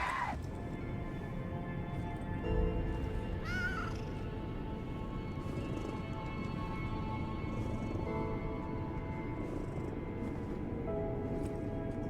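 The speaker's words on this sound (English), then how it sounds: "there's the cat." A cat meows faintly a couple of times inside the video game Lies of P, against a dense, low, steady game soundscape.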